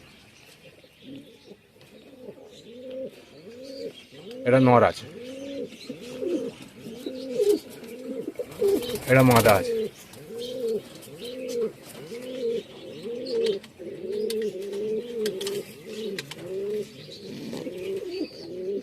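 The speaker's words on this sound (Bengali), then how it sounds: "এটা আমার বহুত পুরনো পায়রা পুরনো পায়রা" Several pigeons coo in a steady, overlapping rhythm close by in a village loft, broken twice by short bursts of flapping, with faint talk in the background.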